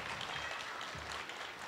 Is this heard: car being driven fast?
no